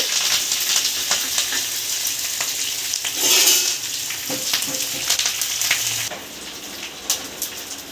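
Steady hot-oil sizzling of a dal tempering with curry leaves and dried red chilies, loud and close, with brief spoon clinks and crackles, easing to a softer sizzle near the end.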